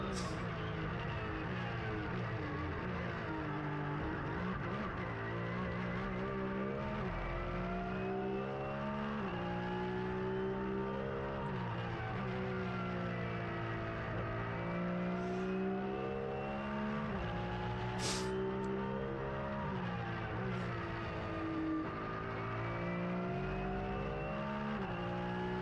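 Porsche 911 GT3 Cup race car engine heard on board at Monza in the Porsche Sports Cup Suisse, a loud sustained roar rising and falling through gear changes with no break.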